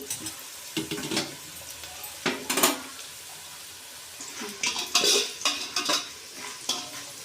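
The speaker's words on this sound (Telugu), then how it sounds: "ఇంకా ఫ్రై అవ్వాలి" Onions frying in a pan for egg dum biryani, stirred in irregular bursts of scraping and sizzling that rise and fall between quieter moments of soft hiss, heard up close.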